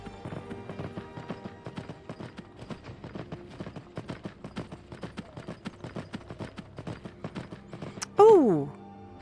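Horse hooves clip-clop at a steady, regular trot in Skyrim VR, close and continuous throughout, with a horse whinny rising near the end.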